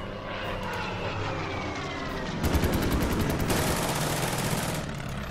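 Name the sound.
fighter planes firing guns in a WWII strategy video game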